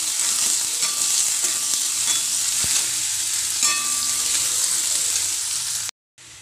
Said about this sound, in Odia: କାଟି କରିଥିବା ପିଆଜ ଗୋଟେ ବଡ଼ ପିଆଜ ଲାଲି ହେଲା ପାଇଁ ଭାଜି ନେବା